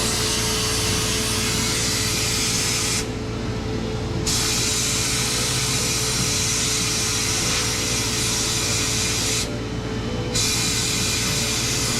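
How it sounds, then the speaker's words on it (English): A Harbor Freight blasting cabinet hisses with a constant, loud, rushing roar while its vacuum runs alongside, a steady broadband drone with two brief lulls in the high hiss as blasting pauses. "So we've got the vacuum going"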